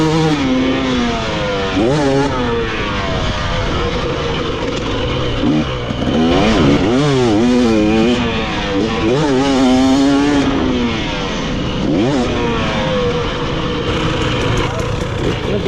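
A motocross dirt bike engine at a County Line MX track revs up and down in repeated rising and falling blips, loud and close, with people talking over it.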